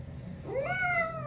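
A cat gives one drawn-out meow with a rising, speech-like inflection, close and clear over faint room noise.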